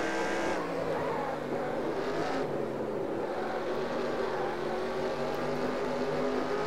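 NASCAR race cars in the NASCAR Racing 2003 game lap the Richmond track, their engines a loud, continuous roar with shifting pitch as cars pass close by.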